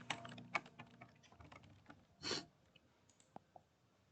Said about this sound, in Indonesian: kalau misalnya saya ketikkan pesan